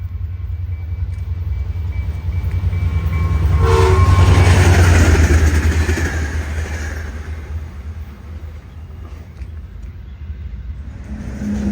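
A Trinity Railway Express commuter train accelerates past after leaving a station, swelling to a loud roar in the middle with a deep engine drone and rattling wheels, then easing off while the low hum continues.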